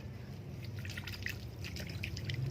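Liquid drips and trickles steadily onto compost, a close, continuous wet patter with no voices.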